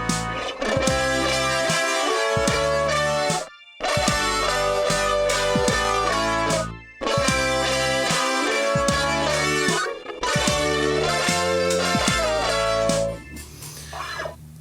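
Music plays along with a backing track, with a pitch-transposed harmony shifted up a major third so the melody sounds doubled a third higher; dense harmonic notes in phrases broken by brief gaps, loud and steady with no talking.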